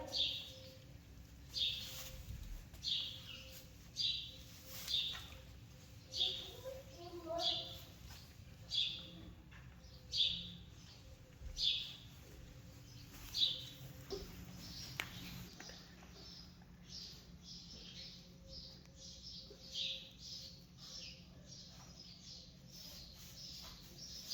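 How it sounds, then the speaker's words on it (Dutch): Short bird song phrases repeat at a fairly regular pace, each a bright chirp over a low outdoor hum, mid-distance, with the calls fading and becoming sparser toward the end. "Dit is die vogel. Dit is vogel. Daar. Dit is zo mooi."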